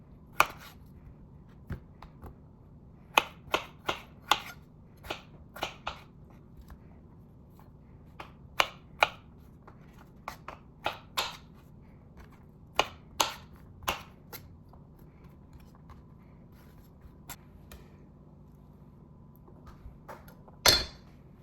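A knife dices potatoes for crispy breakfast potatoes on a board, making sharp, isolated chops spaced irregularly and sometimes grouped in quick bursts, with quiet pauses between them.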